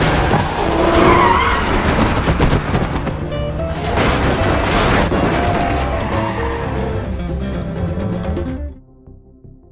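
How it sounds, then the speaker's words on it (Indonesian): Tires screech in long, loud skids as a car swerves and accelerates away while fleeing zombies in a film chase scene, the squeal and engine roar lasting several seconds before cutting to near silence at the end. "Junyi kemudian dengan lincahnya mengendarai mobil tersebut untuk melarikan diri dari kejaran"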